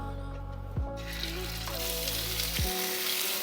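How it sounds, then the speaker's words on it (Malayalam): Marinated prawns fry in a pan with a loud, steady sizzle, broken by a couple of brief stirring knocks against the pan. "പൊതിച്ചോറിൽ അടുത്ത ഐറ്റം കൊഞ്ച് ഫ്രൈ ആണ്."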